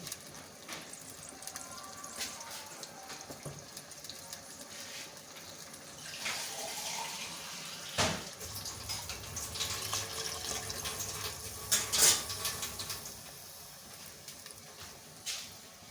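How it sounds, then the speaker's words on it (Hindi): Water runs steadily into a cooking pot of potato curry for a long stretch, a soft continuous pouring hiss with occasional clinks and splashes. "तो मैं थोड़ा पानी और डालूँगी"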